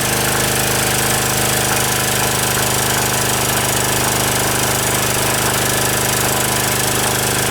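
OKAY 2.8 kW generator with copper-wound alternator and AVR stabilization running under about 2.5 kW of load, a loud, steady, dense engine drone with rapid rattling knock, continuous and close throughout with no pauses.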